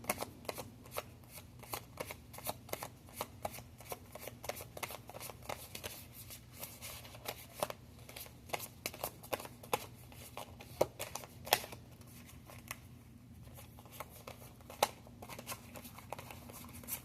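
Tarot oracle cards riffle and slap in quick, crisp bursts, close and fairly quiet, with sharp flicks scattered across the whole stretch and no voices.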